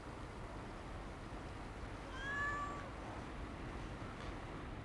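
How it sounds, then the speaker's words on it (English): A stray cat in an abandoned town, meowing once in a clear, mid-distance cry that rises and falls over about a second, set against steady wind-like background noise. "Just an abandoned town cat"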